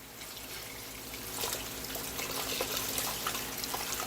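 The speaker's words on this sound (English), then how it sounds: "Now with the water, we want to fill it up as high as possible." Tap water runs steadily into a large stockpot being filled for chicken bone broth, a continuous broadband rush and splash that grows slightly louder as the pot fills, heard close with no talking.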